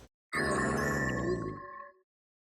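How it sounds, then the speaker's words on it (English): The cry of the Pokémon Bronzong: a single synthesized metallic, resonant clanging, bell-like tone with a hollow buzzing body that fades out after about a second and a half. "It is now known as the Bronze Bell Pokemon, and its cry sounds like this."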